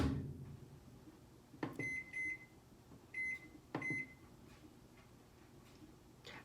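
A microwave oven cooking eggs, with a low hum broken by a few sharp clicks and three short high beeps, moderately quiet and with no voices.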